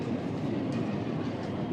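A metro train runs along its rails in a steady, dense rumble with faint rhythmic clatter and no voices.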